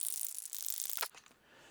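A Rustoleum metallic spray paint can is shaken hard: a quick run of rattling, hissy strokes that stops abruptly after about a second.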